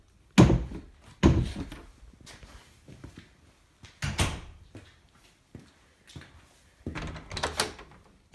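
A door swings and thuds shut repeatedly during a power outage, several loud knocks and bumps at irregular intervals in an otherwise quiet room.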